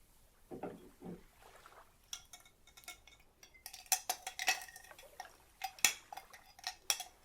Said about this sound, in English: I'm going to use some smaller ice cubes